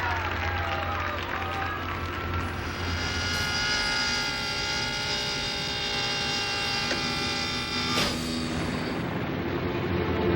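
Airplane engines droning steadily throughout, a loud, continuous tonal roar with whining harmonics, close and unbroken for the whole stretch.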